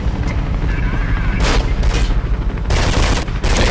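Gunfire aimed at feds in Mirror's Edge, loud close bursts of automatic shots in two or three clusters over a rumbling background of combat noise.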